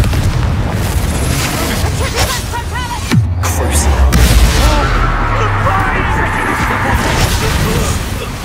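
A loud, deep booming blast from the Confringo explosion spell in Hogwarts Legacy, with a rumbling tail and crackling debris, while game voices and combat noise continue around it.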